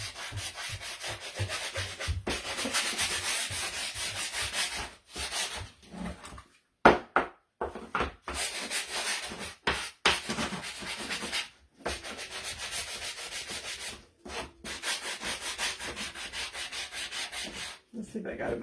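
Wooden gingerbread man decoration being sanded by hand, rapid rhythmic scratchy rubbing strokes close up, broken by several short pauses, with no talking.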